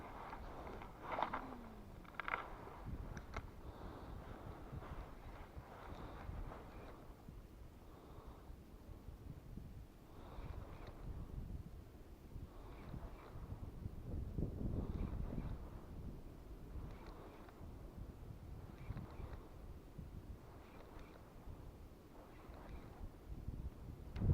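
Wind blows outdoors during a short fishing session with a spinning rod, rumbling steadily and buffeting the microphone for the whole stretch, with no voices.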